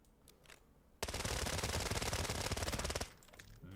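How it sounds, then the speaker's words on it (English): A .45 full-auto gun fires in the Arena Breakout Infinite video game, a rapid unbroken burst of shots lasting about two seconds, loud against a quiet background. "We're full auto."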